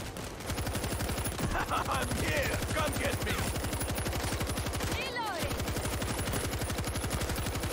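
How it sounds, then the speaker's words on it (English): Rapid, loud, steady bursts of mortar gun fire in the zombie shooter World War Z, a continuous rattling barrage over the whole stretch, with brief chirps and a short dip partway. "Well, that's the mortar gun."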